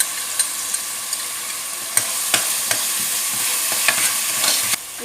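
Onions frying in hot oil for a Mangalore restaurant-style biryani, with a steady close sizzle broken by scattered sharp clicks and scrapes of a spoon stirring against the pan, and no voices.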